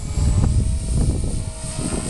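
A V450D01 radio-controlled helicopter flies nearby, its rotor whirring in a steady, fairly loud drone with slight pulsing shifts in pitch, with no one talking over it.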